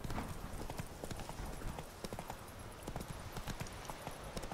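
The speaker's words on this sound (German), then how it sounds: "Ach, das Pferd, das rastet manchmal so komplett aus." A horse galloping in The Witcher 3, with rapid, even clip-clop hoofbeats over a dense, busy game soundscape, fairly close and continuous throughout.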